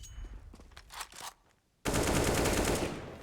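Gunfire in the video game CS:GO during a competitive Dust2 match, with several quick separate shots followed by a loud sustained burst of rapid fire that fills the rest of the moment.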